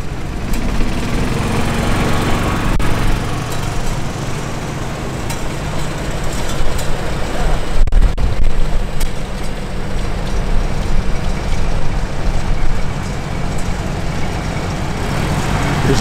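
A small International Harvester Model 100 tractor from the mid-1950s idling and chugging in a tractor parade, a continuous loud low engine drone with outdoor background noise, steady throughout.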